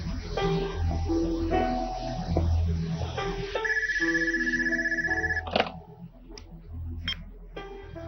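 A telephone rings in a Turkish drama scene, a repeating electronic ringtone with steady tonal bursts over background music and room sound, fairly loud and close.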